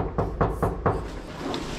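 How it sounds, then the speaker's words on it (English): Four quick knocks on an apartment door in downtown Chicago, close and sharp, followed by quiet background. "Knock on the door."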